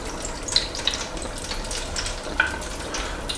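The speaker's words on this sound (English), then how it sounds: "we're going to be cooking or frying these breast fillets for about 10 to 12 minutes" Steady crackling sizzle of chicken breast fillets frying in hot oil, with a few sharper pops and spits over a constant hiss.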